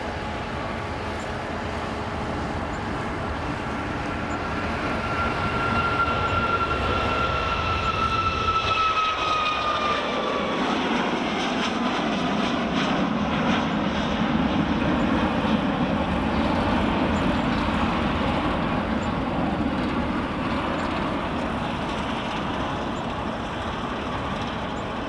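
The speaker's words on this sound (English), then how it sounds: "Here comes Ryanair." A Ryanair airliner at Edinburgh Airport passes with a loud, sustained jet engine roar and a descending whine that sweeps down as it goes by, then settles into a steady rumble with no talking.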